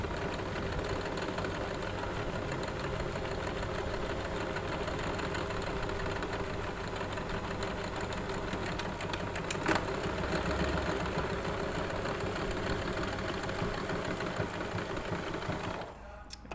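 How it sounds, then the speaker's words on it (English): A sewing machine runs steadily while stitching a bulky puff-sleeve cuff, producing a continuous, even mechanical whir that carries almost the whole time before stopping near the end. "Now hopefully this is going to stitch in place."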